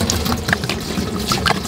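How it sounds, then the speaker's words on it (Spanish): Bottled jug water is poured into a cooking pot, a short burbling, splashing trickle at close range. "Agregamos agua de garrafón."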